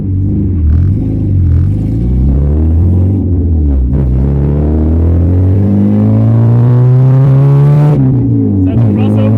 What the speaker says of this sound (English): That VTEC crossover?